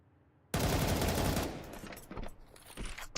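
USP pistol fire in a Counter-Strike pro league match, a loud burst of rapid shots starting abruptly after a brief quiet, then trailing into scattered fainter game noise.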